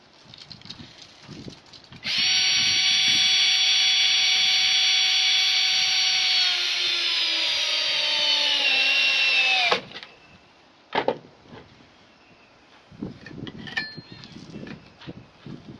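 Power drill driving a stainless steel screw into a wall to mount an ADA railing, one loud continuous whine lasting about eight seconds, close by, followed by clicks and handling sounds.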